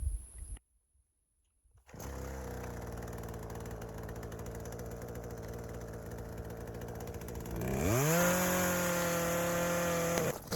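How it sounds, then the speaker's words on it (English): A chainsaw cutting tree stumps outdoors runs at a steady, loud mid-pitched drone after a brief silence, then revs sharply higher and holds at full throttle near the end. "So hopefully I can get through all these stumps before this chainsaw is not going to be useful until I get another chain."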